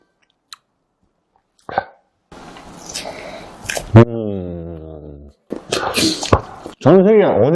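A Korean hot dog is bitten and chewed close to the mic, with soft crunchy bites and squishy chewing, punctuated by brief spoken comments and a hum of approval.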